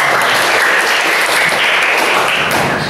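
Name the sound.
hands clapping applause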